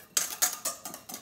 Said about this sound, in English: we're gonna stir this around with our whisk